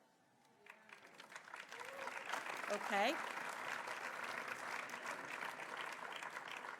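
Conference audience applauding at a WOSM scouting event, a dense wash of clapping that swells and holds steady, with a brief spoken word near the start.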